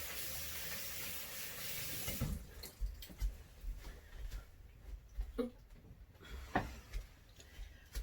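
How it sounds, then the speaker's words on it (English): Running tap water pours in a sink as fingers are rinsed under it. A steady gush gives way to scattered splashes and drips at close range. No one speaks. "Just with my fingers, I suppose I should wash them off."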